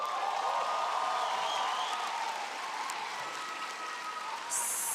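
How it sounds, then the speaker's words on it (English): Steady applause from a commencement crowd honoring two graduates at the Bard College 2024 ceremony, a sustained dense clapping that holds at full level for the whole stretch with no talk over it. "so let's give them both a big round of applause."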